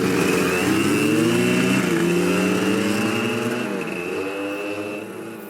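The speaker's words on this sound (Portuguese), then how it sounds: "Tem 2 motos entrando pra Bacurau." Two motorcycles ride toward Bacurau, their engines loud and close with a steady revving drone and shifting pitch that eases slightly toward the end.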